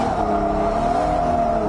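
A big-turbo 2JZ-swapped Nissan S14 240 drift car drives with a steady, loud engine drone and a sustained high whine. The sound is continuous and close, with no voices.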